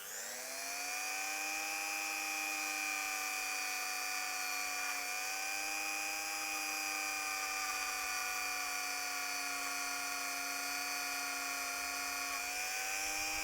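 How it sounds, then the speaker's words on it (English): Dremel rotary tool polishing a rod from an old tank engine under restoration: a loud, sustained high-pitched motor whine with steady harmonics that stays constant throughout, dipping slightly around midway and again near the end, with no voices. "let's go for another bit of Dremel action. See if we can't shine up this rod"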